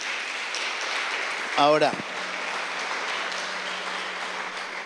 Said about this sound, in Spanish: Le puede dar un aplauso al Rey de Reyes